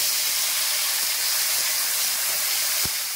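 Chopped tomatoes go into hot oil already spiced with whole cinnamon, green cardamom and cloves, giving a loud, continuous broad sizzle and hiss that fades slightly at the end, with no talking.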